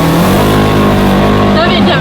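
A Polaris Ranger utility vehicle engine drones loud and steady while driving, holding a continuous rumble with people talking over it.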